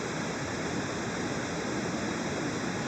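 Oxygen bleach powder fizzing and reacting in water inside an enamel pot, a steady soft hiss of fine bubbling that holds evenly throughout without pauses.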